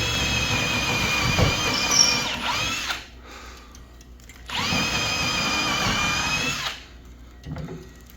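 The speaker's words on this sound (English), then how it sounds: "Lori's drilling in the holes for putting in 3-inch leg screws" A power drill bores holes for 3-inch lag screws while a workshop is being built, whining loudly in two long bursts of several seconds each, with brief quieter gaps and a short final whir.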